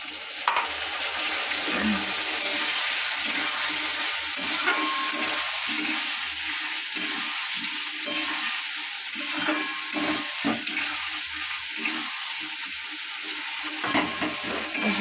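Spice paste sizzling and frying in a pan for a fish curry, with fried potatoes and ginger paste water just added, a steady loud crackle with scattered stirring scrapes throughout and no talking.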